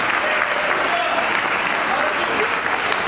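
An audience at a comic poetry gathering applauds in a dense, continuous wave of clapping that fills the room and holds level throughout, with faint voices mixed in.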